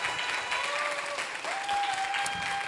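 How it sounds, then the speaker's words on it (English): A meeting audience claps in steady, sustained applause, a dense wash of hand claps that holds evenly at moderate loudness for the whole stretch, with a faint tonal whine running beneath. "will y'all give Dr. Russell Lowry Hart a big round of applause"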